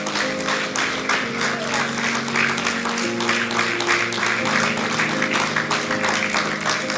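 A church congregation claps and applauds in steady, dense rhythm for several seconds, a broad wash of many hands with faint voices underneath.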